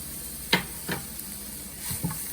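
Spicy tofu with cilantro is stirred in a pan over a steady frying sizzle, with a few distinct scraping strokes of the utensil spaced out across the clip, close and fairly quiet.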